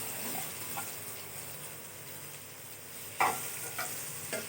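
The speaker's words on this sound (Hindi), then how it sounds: "1 टेबलस्पून हमने ऑयल लिया, जिसको कुकिंग करते हैं, और इसमें प्याज फ्राई करेंगे।" Onions frying in a tablespoon of cooking oil for an achari potato and capsicum dish give a steady, low sizzle with a few sharp stirring scrapes near the end.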